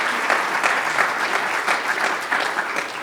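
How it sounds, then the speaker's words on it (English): Audience at a greenhouse seminar gives a round of applause, with dense, steady clapping from many hands throughout. "We'd like to give them a round of applause for helping to put this together"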